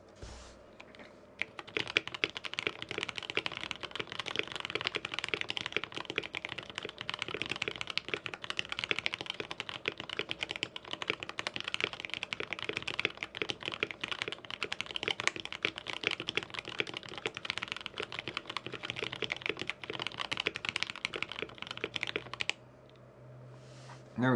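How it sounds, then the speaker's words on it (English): Steady, fast typing on a KBD67 Lite R1 mechanical keyboard, with dense clicky keystrokes, close and continuous, then a brief pause near the end, with no voices. "Typing test number 2."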